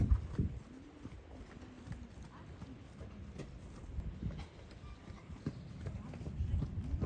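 Horses walk loose around an enclosure, their hooves clip-clopping in an irregular rhythm close by, mostly beneath someone talking steadily.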